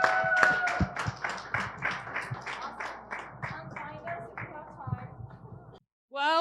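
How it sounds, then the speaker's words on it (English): Audience clapping at a Web3 and AI tech meet and greet, a small crowd's quick sharp claps thinning and fading, with a voice over them and a brief break before more talk. "big round of applause."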